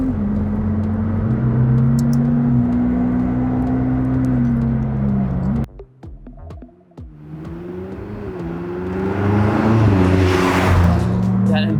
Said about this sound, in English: That induction noise is unreal.